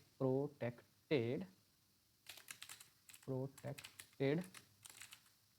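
Typing on a computer keyboard while coding a protected route page for a Next.js website, rapid clicky keystrokes in short bursts interleaved with someone talking.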